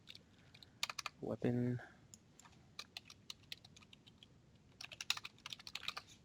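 Fast clicks from a computer keyboard come in short bursts at a desk, light and close, with a brief voiced sound early on and speech faintly present.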